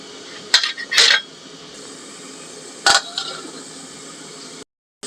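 A cooking pot being covered with its lid while pork igado with liver cooks, giving a few sharp metallic clanks and clatters close by, a double knock early on and another a couple of seconds later.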